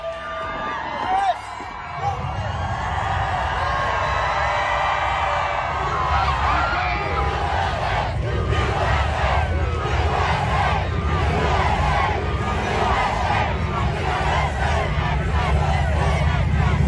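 A large crowd of voters gathers outside a McDonald's in Pennsylvania, cheering and whooping in a sustained roar, with a babble of voices and a few nearby shouts throughout.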